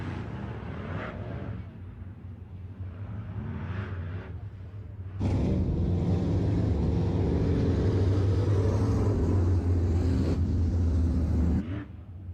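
Race cars at Lake of the Woods Speedway during a heat race, a distant rumbling roar that swells abruptly into a loud sustained drone of engines passing, then drops back near the end.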